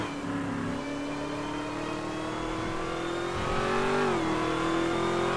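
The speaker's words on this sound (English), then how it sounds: "Yeah, that Jeep so fast. SRT8 Jeep." An SRT8 Jeep in GTA 5 revs and accelerates with a loud, steady engine whine that climbs in pitch, dips briefly, then keeps pulling.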